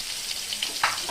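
Egg curry tempering in hot oil, a soft sizzling and crackle up close with a few sharper spits and pops near the end, brief and steady.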